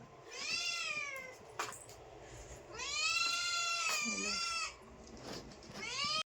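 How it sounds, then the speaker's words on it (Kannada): Kittens indoors in a house give several drawn-out, high, wavering meows, close and clear, arriving in three bursts separated by brief pauses. "ನಮ್ಮ ಮನ್ಯಾಗ ಬೆಕ್ಕಿನ ಮರಿಗಳು ನೋಡ್ರಿ ಎಷ್ಟಾಗ್ಯಾವ"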